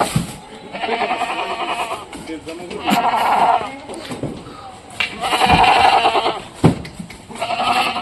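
Goats bleat repeatedly in a pen, several wavering calls overlapping at close range, separated by short pauses and sharp knocks, with people talking in between.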